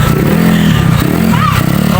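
A motorcycle engine runs close and loud at night as the bike is moved to be parked, with a throbbing, uneven rev and some clattering, and a person speaks briefly over it.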